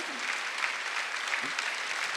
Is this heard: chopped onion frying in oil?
no